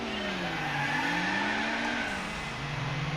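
Mazda MX-5 in Gran Turismo 4 sliding on track, its steady engine drone joined by a sustained tire squeal, with no one talking.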